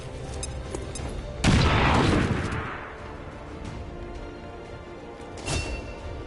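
A frag grenade detonates in the alien-fighting strategy game XCOM 2, a single loud boom with a rolling, crackling decay lasting about a second, then quieter background battle noise and a smaller thump near the end.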